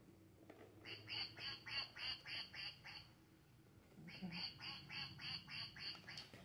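Ducks quack in two rapid runs of repeated nasal calls, fairly faint against a soft outdoor background.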